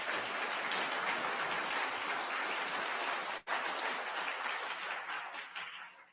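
A summit audience at the 20th International Human Rights Summit applauds a visiting delegate with steady, dense, sustained clapping. The wash of sound is even and fairly distant, with only a brief dip near the middle.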